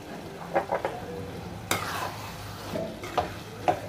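Frying chicken with curry leaves, green chillies and chicken masala is stirred in a pan, giving a few separate scrapes and clinks over a soft sizzle, close and fairly quiet.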